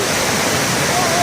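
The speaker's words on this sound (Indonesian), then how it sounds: "Inilah penampakan di ujungnya" A steady, loud roar of falling water, constant and broadband like a nearby waterfall, with no breaks, at Tujuh Bidadari waterfall in North Aceh.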